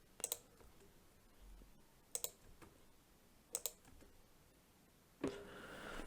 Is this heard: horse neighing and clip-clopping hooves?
no